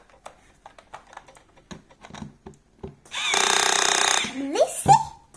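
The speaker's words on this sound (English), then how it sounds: "Okay, we'll get the drill and we'll spin it up." A small electric drill used for screwing a toy robot together spins up in one steady, loud whirring burst lasting about a second, after scattered light clicks and handling taps, then gives a brief rising whine.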